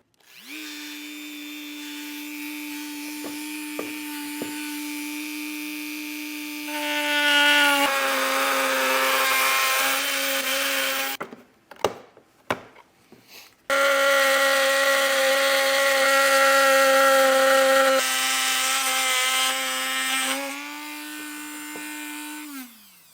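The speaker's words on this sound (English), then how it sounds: "So with that marked out, the best way to do this is probably with a rotary tool." A rotary tool cuts out a marked section for an EcoHitch hidden front-mount trailer hitch on a 2022 Ford, giving a close, loud, steady high whine that shifts pitch, breaks off briefly midway with a few clattering knocks, then resumes.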